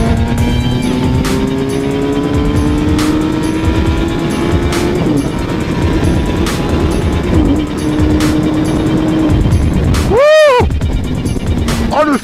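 Sports car accelerating hard with a rising, roaring engine note through the gears, then braking heavily, loud and close, with tire noise and a brief squeal near the end while someone talks over it.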